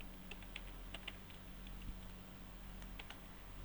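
Keystrokes on a computer keyboard while code is typed, faint scattered taps in short irregular bursts over a low steady hum.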